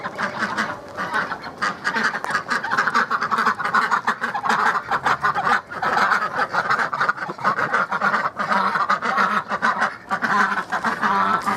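A flock of ducks quacking continuously and loudly, close by, many overlapping calls with no pauses.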